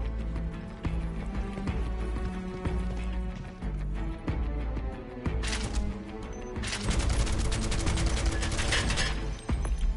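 Gunfire in Final Fantasy 7 Rebirth while shooting ladders down, with repeated clattering mechanical shots over a game music bed, growing louder and denser bursts in the second half.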